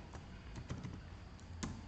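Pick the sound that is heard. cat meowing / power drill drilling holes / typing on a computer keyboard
typing on a computer keyboard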